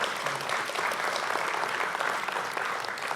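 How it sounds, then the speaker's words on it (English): An audience at a technical conference claps steadily and loudly for a few seconds, a dense wash of many hands with no pauses. "I think that's worth a round of applause."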